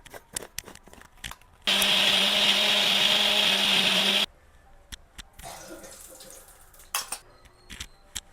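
A kitchen mixer grinder whirs loudly for a few seconds, blending a fine spice paste for mushroom biryani, then stops, leaving faint clinks and handling noises.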